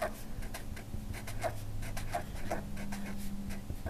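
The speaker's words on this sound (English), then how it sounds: "I'm going to write Belle's ribbon" Pen or pencil writing a ribbon measurement by hand, a steady run of short scratchy strokes close up, with no talking.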